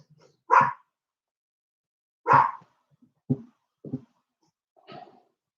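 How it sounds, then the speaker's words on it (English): Dogs barking with spaced, separate barks, two loud ones followed by a few softer, shorter woofs, against otherwise quiet surroundings. "Dogs are barking."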